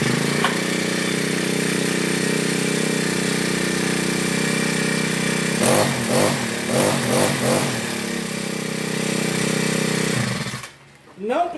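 A Toyama TBC40 four-stroke brush cutter engine runs with a loud, steady drone, revving and sputtering briefly before it cuts out near the end.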